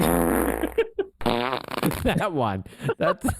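A loud, sputtering wet fart sound effect rings out for most of a second, then voices talk over the rest, with a brief fainter burst between phrases.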